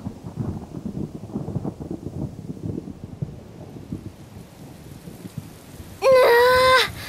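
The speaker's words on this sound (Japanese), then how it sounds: "うわあ、あつらえたかのように雨が。" Steady rain with soft rumbling in a Japanese story-driven video game, a dense wash of falling water filling the background throughout, then a sharp bright musical chime near the end.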